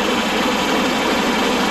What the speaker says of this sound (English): Turn the PTO on.